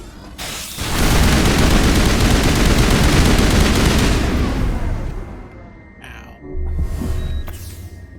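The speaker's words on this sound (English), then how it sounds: "I guess I just have to shoot them" Sustained heavy gunfire roars in Mass Effect Legendary Edition, a dense loud burst lasting several seconds, then fading, followed by a shorter second volley with electronic tones.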